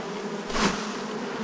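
Buzzing swarm of honeybees marching into a top bar hive after transfer from a Langstroth box, a steady close hum that swells briefly, no voices.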